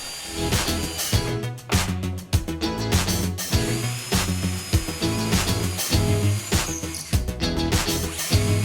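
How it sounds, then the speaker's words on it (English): A power drill whirs loudly and steadily, boring through the end of an oak wine barrel stave, with brief dips in pitch and pauses, no voices present. "use it as a template to drill a hole through the end of the stave"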